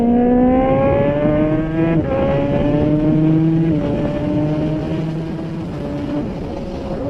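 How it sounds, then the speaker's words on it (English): A Kawasaki ZX14R motorcycle riding at speed, its engine note holding a loud, steady high drone with a few brief dips and rises as the throttle shifts, heard close with wind rush and no voices. "this ride is just Bobby D's solo ride of zipping around."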